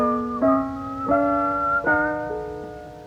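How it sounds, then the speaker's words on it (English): A man whistles a slow melody alone, holding each note steadily before sliding to the next, close and clear over a faint background hum. "whistling to himself"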